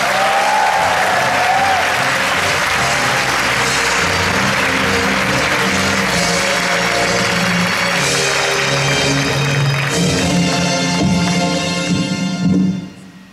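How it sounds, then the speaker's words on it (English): A large audience applauding a university vice rector as he comes on stage, a loud dense wash of clapping that runs steadily throughout and thins slightly at the very end. "Please give him a round of applause."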